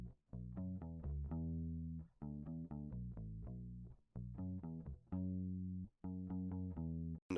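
Clean bass guitar tone, a bouncy line of plucked notes in short phrases with brief gaps, played alone and fairly quiet.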